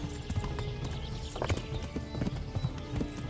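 Horse hooves clip-clop at a gallop in the medieval video game Kingdom Come: Deliverance, a steady drumming rhythm with occasional whinnies over game ambience, while a player shouts excitedly.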